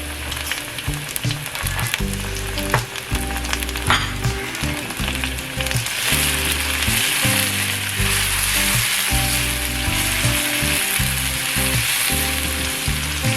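Chopped onion, ginger, garlic and chili fry hard in hot oil for Thai basil fried rice with chicken, giving a loud continuous sizzle close up, with a low mechanical hum and stirring underneath.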